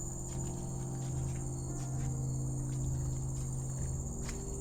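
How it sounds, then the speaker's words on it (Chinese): Steady insect chirring fills a humid Singapore rainforest soundscape along a trail, a constant high buzz with occasional faint bird calls layered over a low continuous hum. "虫鸣鸟鸣也更明显了"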